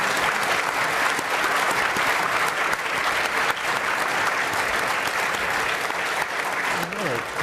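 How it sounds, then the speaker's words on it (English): An audience at a fireside-chat panel event claps in a dense, sustained round of applause, steady and fairly loud throughout, with a voice briefly rising near the end. "I hope we can offer them a round of applause for all their efforts"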